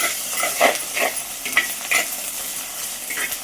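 Ginger garlic paste fries in a clay pot, giving a steady low sizzle broken by a few louder scraping stirs spread across the stretch, with no voices.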